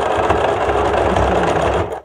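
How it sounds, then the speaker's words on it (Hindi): A sewing machine runs a fast, continuous whirring stitch over pressed fabric pleats to lay a double seam, loud and close, then cuts off abruptly at the end. "एक इसके ऊपर से सिलाई डालनी है, जिससे कि ये प्लेटें भी दब जाएंगी और इस पर डबल सिलाई पड़ जाएगी"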